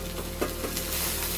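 Mutton for biryani fries in a pan, giving a dense, continuous sizzle with faint stirring scrapes underneath.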